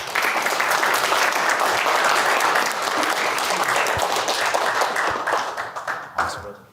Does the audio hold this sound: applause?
yes